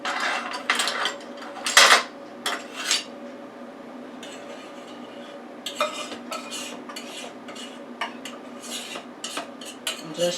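Pecan pie filling scraped from a bowl into a dish with a utensil, giving repeated scraping and clinking strokes, close and moderately loud, with short bursts of metal-on-glass contact and no talking.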